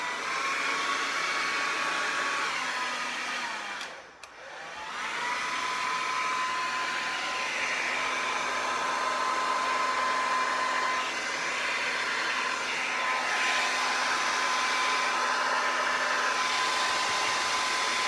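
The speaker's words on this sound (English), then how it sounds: "let's give this a go with my handy dandy hairdryer" A hair dryer blows with a steady, loud whooshing roar and a whining motor tone, briefly cutting out and restarting partway through, then running continuously.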